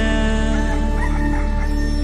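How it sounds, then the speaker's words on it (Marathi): A rooster crows loudly and close by on a farm in rural Konkan, one sustained call filling the short moment. "कोंबड्याच्या आरवण्याचा आवाज"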